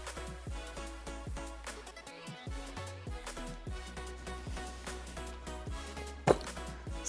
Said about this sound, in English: I need to dig through a couple drawers.